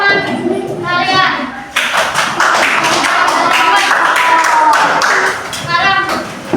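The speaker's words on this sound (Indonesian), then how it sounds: "Terima kasih tepuk tangan untuk teman kalian." A combined-grade classroom of children claps for a classmate, steady dense clapping close by for several seconds, with children's voices at the start and end.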